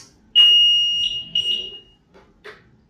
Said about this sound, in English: the yellow button is for the horn. You can listen.